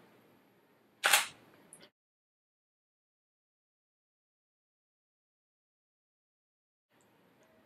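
A Canon camera shutter fires once for a shot with a TTL flash, a sharp close click followed by a brief second mechanical snap, then near silence.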